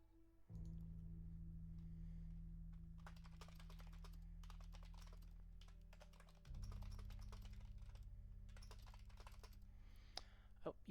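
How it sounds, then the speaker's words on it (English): Rapid bursts of typing on a computer keyboard in the game The Operator, clattering in uneven runs over a steady, loud low hum that shifts pitch partway through. "Oh, you all can't see what I'm typing."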